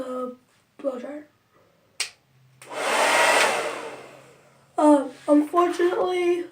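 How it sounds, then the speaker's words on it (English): A blow dryer bursts on for about two seconds, roaring steadily as it blasts a bearing fidget spinner in a bathroom, with talking before and after. "with the blow dryer."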